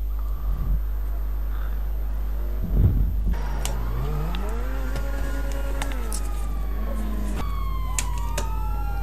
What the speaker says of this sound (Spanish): con la sirena puesta y las estrellas parpadeando